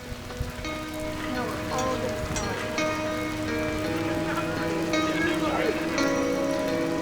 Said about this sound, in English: It's been raining all night. It's super soaking outside.